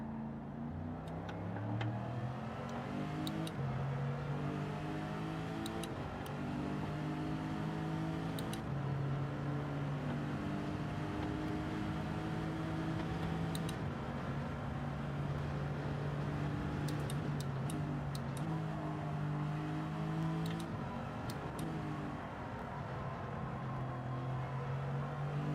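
A race car engine in Gran Turismo 7 during a Manufacturers Cup race, a steady moderate drone that climbs and drops in pitch through repeated gear changes, with faint ticking clicks scattered over it.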